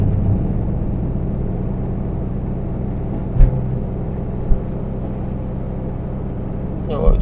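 A Perodua Viva car drives uphill, with a steady cabin engine drone and road rumble, a few bumps, and a voice talking over it.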